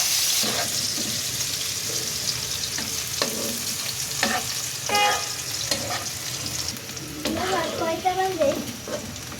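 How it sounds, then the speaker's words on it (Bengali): Chopped onions fry in oil for an aloo karela bhaji, a continuous loud sizzle with repeated spatula stirs and scrapes, a brief clatter toward the end, no clear talk. "পেঁয়াজগুলো ভাজা হচ্ছে"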